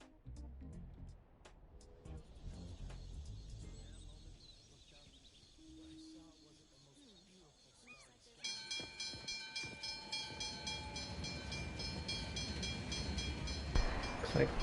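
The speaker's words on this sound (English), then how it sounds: "Looks like trains passing by." Trains rumble past in the video game NTE, a steady broadband roll with rhythmic clatter building after a quieter stretch, rising louder toward the end, with faint tonal whine and game ambience throughout.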